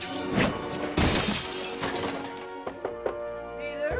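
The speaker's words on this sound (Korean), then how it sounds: "거미줄 쏘는 방법을 터득한 뒤 방에서 연습할 때 문 앞에 있던 테이블 램프를 박살내는데요" A table lamp smashes in a bedroom scene from a Spider-Man film: a loud crash and glassy shatter, then scattered tinkling pieces, set against a sustained musical score.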